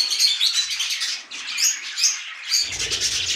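Dense, high-pitched chirping and twittering from a flock of budgerigars, continuous and fairly close, with a low rumble joining near the end.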